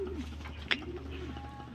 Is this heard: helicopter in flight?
no